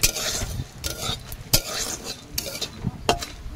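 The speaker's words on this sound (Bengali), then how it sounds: "কড়াইতে দিয়ে আমি এবার মশলা তৈরি করে নেব ভেজে" Dried chilli, peppercorns, cardamom, fennel and cumin are dry-roasted in a wok, with repeated scraping stirs and light rattling of spices against the metal, close and uneven in rhythm.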